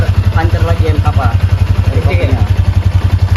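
A motorcycle engine runs close by with a steady, throbbing low pulse, loud and continuous while people talk over it.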